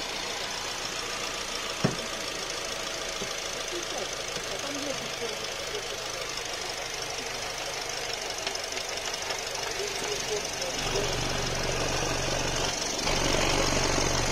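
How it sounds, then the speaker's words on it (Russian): A Honda Accord 7 engine idles steadily up close, a low even rumble with a slight knocking texture that grows a little louder toward the end. "Мотор ровно заводится."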